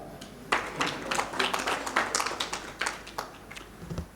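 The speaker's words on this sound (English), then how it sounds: "If you can appreciate, you can still clap." Audience clapping at a post-budget dialogue on tax and debt in an East African conference hall: a moderate, uneven patter of hands that starts abruptly and carries on steadily for several seconds.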